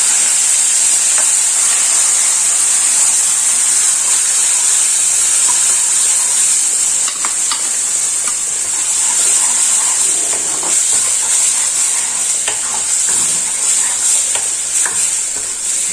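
Ground chilli, ginger and garlic paste frying in a pan for mughalai chicken, a loud continuous sizzle with bright hiss, while a spoon stirs and scrapes through it, close up, with no voices.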